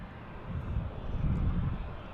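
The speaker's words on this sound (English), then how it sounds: "we also have a 757 pushing back right in front of us" Jet airliner engines at DFW Airport in Dallas, Texas, producing a steady, low, distant roar that swells slightly and holds without breaks, with no talking.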